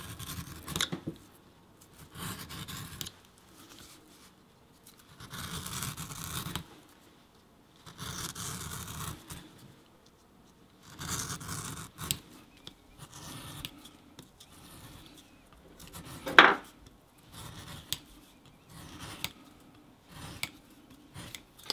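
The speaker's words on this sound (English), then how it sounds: "It's almost like we're splitting this leather down a little bit." A hand knife skives leather, thinning it in repeated short scraping strokes that come in bursts with quiet gaps, close and soft, with one sharper scrape partway through and no talking.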